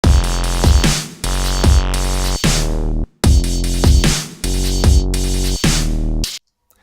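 Drum and bass synth bass line from a Fuser factory patch, loud and rich with harmonics, playing a syncopated pattern of sustained notes broken by short gaps and sharp percussive hits.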